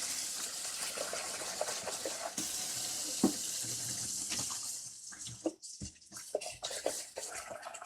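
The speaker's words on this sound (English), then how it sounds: "We're gonna wash the carrots before." Tap water runs steadily into a sink while carrots are washed, a continuous splashing stream that breaks into irregular gurgles and drips near the end.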